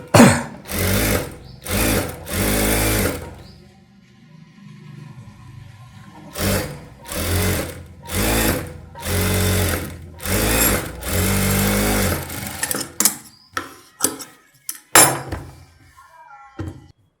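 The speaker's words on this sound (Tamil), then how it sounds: "இது கிரேப் சில்க்குனால மேலே ஒரு தையல் ஒன்று போட்டுக்கிறேன்" A sewing machine stitches along a crepe silk blouse sleeve in repeated loud bursts of running, with short pauses between runs and a few thumps and clicks near the end.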